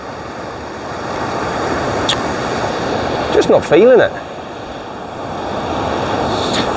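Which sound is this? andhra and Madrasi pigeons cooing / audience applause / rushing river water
rushing river water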